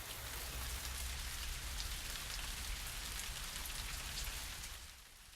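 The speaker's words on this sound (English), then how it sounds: "Outside, it had started to rain heavily." Heavy rain falls outside as a dense, steady hiss of drops pattering on surfaces. It stays constant without voices and eases slightly at the very end.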